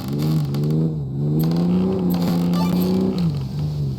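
An off-road vehicle engine in Offroad Mechanic Simulator revs up after a downshift, a loud, close, steady motor hum whose pitch rises, holds, then dips back down.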